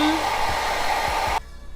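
A hair dryer blows on hair at close range with a loud, steady whoosh and hum, then cuts off abruptly near the end, leaving quiet handling sounds.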